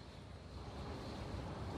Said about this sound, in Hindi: देखो देखो हवा की आवाज आ रही है आपको